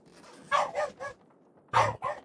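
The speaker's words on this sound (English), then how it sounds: "Stop it, no barking." A dog barks in short bursts, about five loud close barks in two clusters with quiet gaps between, while a player explores the frozen wilderness of The Long Dark.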